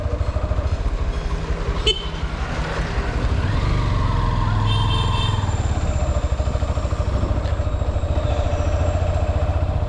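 Honda X-Blade motorcycle ridden along a dark village road on a rainy evening, its engine droning steadily and close throughout, with a short horn toot near the start.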